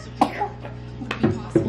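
A young child with a sore throat coughs and clears the throat in a few short, close bursts, some voiced, spread across the moment with background murmur.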